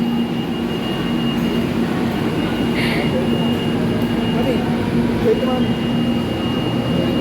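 Train interior with a steady, loud low rumble and constant hum running throughout, with no distinct breaks, under light background activity.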